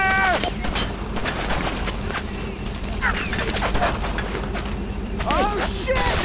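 Dense World War II gunfire in the shooter Brothers in Arms: Road to Hill 30, with continuous rifle and machine-gun bursts cracking nonstop, loud and close, while soldiers shout over the firing.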